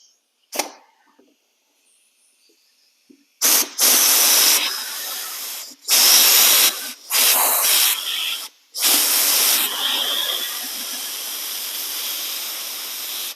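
Compressed air from a shop line blasts in several loud, sharp hissing bursts to force the piston out of a Spec Miata MX5 brake caliper during a rebuild, with short gaps between bursts and a sustained final hiss.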